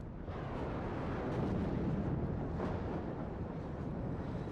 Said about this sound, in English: you can see the enemy artillery that is constantly now coming in